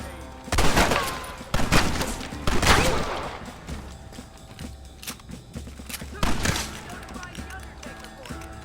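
Repeated rifle and pistol gunfire in a Red Dead Redemption gunfight. The shots come in bursts, some loud and some distant, mixed with shouting voices and battle noise.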